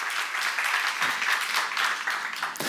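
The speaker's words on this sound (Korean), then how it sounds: "박수 하나 더 해주세요." A church congregation claps in a steady, dense round of applause at moderate level, sustained through the short stretch before a voice cuts in at the end.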